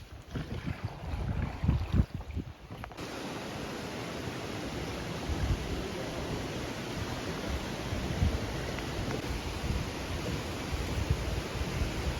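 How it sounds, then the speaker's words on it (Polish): A boat being paddled through a canyon in Georgia gives off a steady wash of water and wind rushing past the microphone, faint at first and then a continuous roar. "Płyniemy kanionem."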